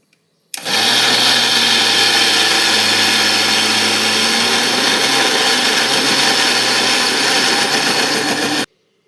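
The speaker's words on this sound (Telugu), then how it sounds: "మిక్సీ వేసుకుందాం." A mixer grinder runs continuously at full whir, blending ponganalu batter with green chillies. It starts abruptly, holds a loud steady motor roar for about eight seconds, then cuts off.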